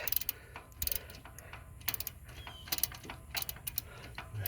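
A ratchet loosening the alternator bolt on a 1999 Toyota Camry, in quick bursts of rapid clicking separated by short pauses, close and fairly quiet under a low background hum.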